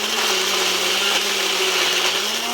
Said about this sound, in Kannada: ಮಸಾಲೆ ರುಬ್ಕೊಂತಿದ್ದಾರೆ